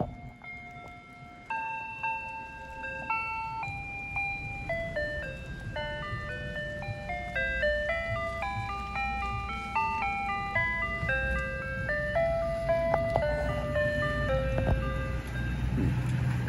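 An ice cream van drives by, its chiming jingle playing a steady tinkling melody over a low engine rumble that grows slightly louder as it nears.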